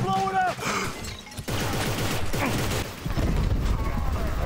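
Gunfire and explosions in a co-op third-person shooter: dense bursts of shots and crashes fill the scene, with a sharp break near the middle and a steady roar of combat throughout, loud and close.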